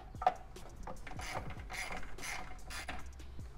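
A ratchet clicks in short, irregular runs as it loosens 10mm nuts deep down on a BMW N54 engine, with metallic taps and scrapes close up.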